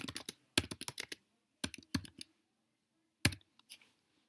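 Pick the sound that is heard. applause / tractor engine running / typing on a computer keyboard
typing on a computer keyboard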